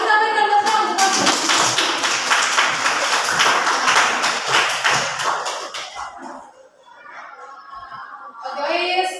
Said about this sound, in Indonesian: kita berikan tepuk tangan untuk Ois